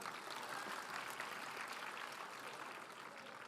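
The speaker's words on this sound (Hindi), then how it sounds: "नर्सरी के ये मासूम बच्चों के लिए एक बार जोरदार तालियां" Applause for nursery children at a school annual function, a continuous, fairly soft patter of clapping from the audience that tapers slightly toward the end.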